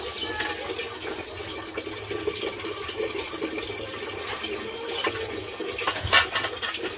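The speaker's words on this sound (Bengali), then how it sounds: "এরকম মা এখানে বাসন মাজছে।" Running water pours from an outdoor tap while a mother washes dishes beneath it, a continuous rushing splash with occasional louder clatters and spurts near the end.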